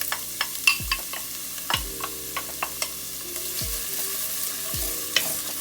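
Chopped onions going into hot olive oil in a pan, a steady sizzle broken by repeated clacks and low thuds of stirring and handling, close by with no talk.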